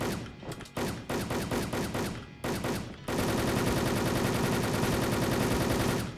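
Machine gun spray fire from the Wolfteam online shooter game: loud rapid bursts separated by short gaps, then one unbroken stream of automatic fire that runs to the end with no talking.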